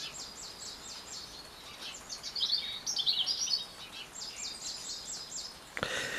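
Birds singing outdoors in spring, repeated bright chirping phrases and quick trills ringing from a short distance over a quiet, hushed background.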